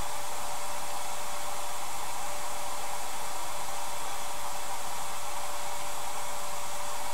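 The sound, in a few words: blow dryer drying salt chipping paint layer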